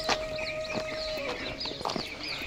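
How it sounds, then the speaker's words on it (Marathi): Chickens and small birds in a village, several brief clucks and chirps with a sustained whistle-like tone early on, moderately close amid light outdoor ambience. "पक्ष्यांचा किलबिलाट"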